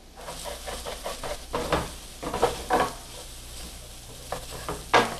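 Celery and onion cook in a pan for potato salad, with a soft sizzle running underneath and a series of stirring scrapes and clinks of a utensil against the pan. The scrapes come in irregular bursts, close and clear.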